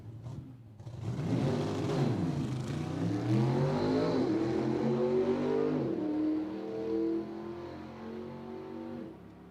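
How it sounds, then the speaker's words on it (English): Greg Lane's new drag race car accelerating at Cordova Dragway during the BOP Nationals, a loud engine roar that climbs in pitch, drops and climbs again as it hits the gears, then fades somewhat as it pulls away. "He's hitting the gears."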